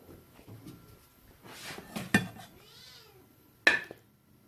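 Cats sitting beside a cook making Afghani shahi tukray in a home kitchen give a couple of short meows, under light dish and utensil clatter, with one sharper sound near the end.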